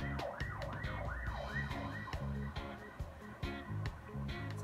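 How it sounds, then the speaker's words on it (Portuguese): An ambulance siren wails in a fast rising-and-falling yelp outside, loud and continuous as it races past, with thumping traffic and street noise underneath. "e agora a ambulância tá aí louca, correndo com ela"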